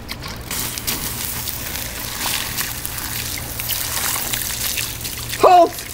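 Water trickles and splashes steadily throughout, as if poured out to douse a fire in a bag-puppet skit, with a brief louder voice-like squeak near the end.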